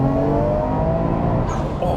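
A 500 bhp Nissan Skyline R33 GTR pulls hard on high boost, its engine roaring loud and steady from inside the cabin with no letup across the whole stretch.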